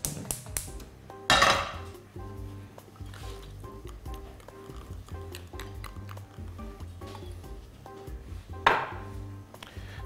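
Mushrooms being sliced with a knife on a wooden board, given a fairly thick cut; clear knife knocks on the board come in a loose, irregular rhythm, with a couple of louder bursts of handling noise and no talking.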